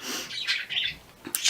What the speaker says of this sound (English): my birds are in the background,